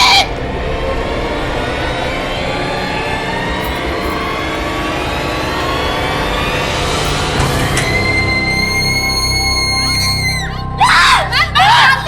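A woman screams in a horror drama. Her shrill cry rises and falls over a dense, noisy background, close and loud, and ends in a few sharp wails.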